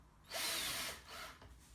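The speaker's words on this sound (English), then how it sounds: "We're going to drill" A power drill starts a hole in an IKEA Lack table leg, whirring up loudly in a short burst, easing, then giving a second shorter spin.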